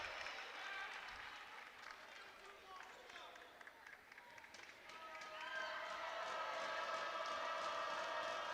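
Crowd noise at a women's college basketball game, Alabama versus Stetson, during free throws, rising from a steady murmur of voices and cheering to a louder, fuller roar in the second half, with announcer-style talk underneath.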